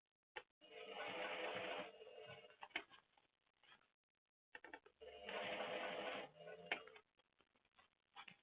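A sewing machine stitches a leather tote seam slowly and carefully, running in two steady whirring bursts of about a second and a half each, separated by a pause, with small clicks and handling noises between them.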